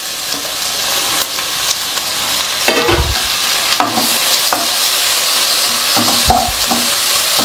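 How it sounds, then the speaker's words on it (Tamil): Onions fry in oil with tomatoes added, a loud, close crackling sizzle with periodic stirring scrapes and clunks against the pan. "அந்த எண்ணெயில் வறுபடும் போது பார்த்தீங்கன்னா வெங்காயம் வதங்கிருச்சு, கலர் மாறிடுச்சு. இப்போ தக்காளியும் சேர்த்துட்றேன்."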